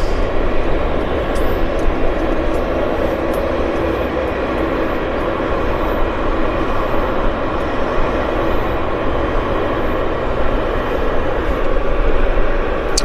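Air Canada Flight 236 airliner at Vancouver Airport, bound for Edmonton: a steady, loud, broadband engine roar that holds evenly throughout with no breaks and no voices.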